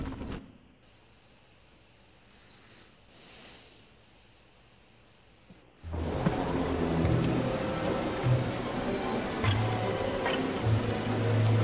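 Rain falling in the survival video game Don't Starve, a steady broadband wash that starts faint and then swells abruptly into a louder, fuller downpour with scattered low game tones.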